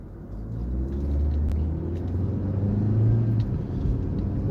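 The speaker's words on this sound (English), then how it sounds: "We're gradually rolling into the throttle. And it's picking up boost, about 5 pounds of boost." A car with a turbocharged engine accelerates as the driver gradually rolls into the throttle and boost builds to about 5 psi, a low steady rumble with rising engine drone heard from inside the cabin.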